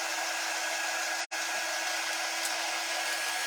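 A hair dryer blows continuously on wet paint, a steady airy whir interrupted once by a brief cutout before resuming at the same level, no talking.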